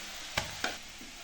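Onions and shallots sautéing in a pan, a soft steady sizzle with two sharp stirring scrapes close by, no voices.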